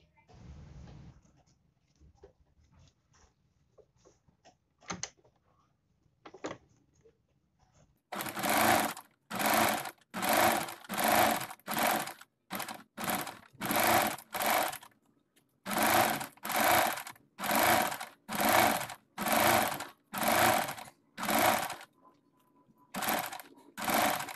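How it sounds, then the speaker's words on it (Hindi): Close, loud sewing machine stitching around a cutwork blouse neckline in repeated bursts of rapid whirring, separated by short pauses, after a quiet stretch of small handling noises. "अब हम इस कपड़े को इस तरह फोल्ड करते हुए पूरे नेक में सिलाई लगा लेंगे"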